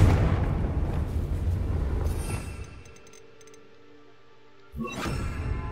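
A Confringo blasting spell detonates in Hogwarts Legacy: a loud, rumbling blast rolls out and fades into quiet, then a second sharp burst erupts near the end.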